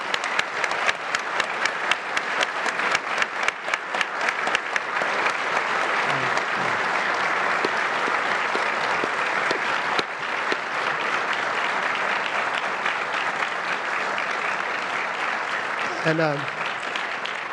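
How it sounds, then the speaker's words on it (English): An audience at a Command & Conquer developer event bursts into sustained applause, dense and even throughout, with a brief voice speaking near the end. "give me a round of applause for all the people that worked on Command & Conquer"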